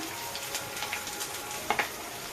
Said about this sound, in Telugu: ఇవన్నీ అంత బాగా ఏం వేగక్కర్లేదండి, కొంచెం వేగితే చాలు ఫ్రైడ్ రైస్లోకి